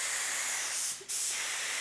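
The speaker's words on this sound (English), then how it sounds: "we pull the trigger, paint comes out" Paint spray gun hissing loudly up close, a steady broad spray that cuts out for a split second as the trigger is released, then resumes.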